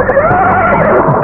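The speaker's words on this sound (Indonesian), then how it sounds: "Dan kuda penarik pedati itu mungkin seperti ketakutan." A frightened cart horse neighs in a loud, close, wavering whinny that fills the brief moment, set in a radio drama.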